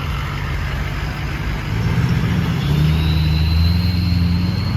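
Rusty truck with a 6.4 diesel engine suffering heavy blowby, running lumpy and rough while driving, a steady low rumble that swells louder partway through.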